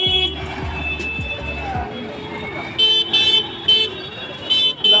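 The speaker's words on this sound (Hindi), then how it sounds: "भाई ये पटना का ट्रैफिक," Road traffic in Patna, India, rumbles along with several sharp car horn toots bursting out in quick succession toward the end, nearby and loud over a continuous engine hum.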